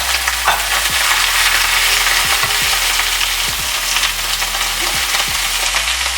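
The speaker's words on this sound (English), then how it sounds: "I'm gonna just pan fry these for about 3 minutes before adding the prawns" Mussels pan-fry in hot oil with a loud, continuous crackling sizzle, interrupted by several low thuds and scrapes as the pan is stirred.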